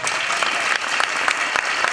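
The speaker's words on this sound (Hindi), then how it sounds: "राजस्थानी मारी पहचानी पर जोरदार तालियां हो जाए।" A school audience at the Rajasthan Film Festival 2024 gives a full, continuous round of loud applause, with dense overlapping claps and no break from start to finish.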